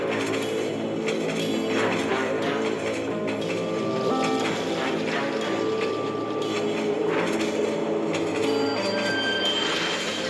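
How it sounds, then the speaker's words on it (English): Clinchfield 3613 diesel locomotive works hard hauling a train along a mountain line, a loud, continuous rumble with squealing wheels and metallic clatter, with no voices. "Clinchfield 3613 diesel was working hard, delivering its train through the mountain line."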